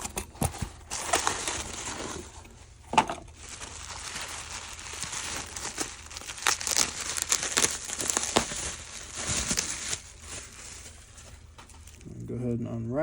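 Packaging crinkling and tearing while a new HP printer ADF motor is unwrapped, close irregular plastic rustles and crackles over several seconds, and someone talks near the end.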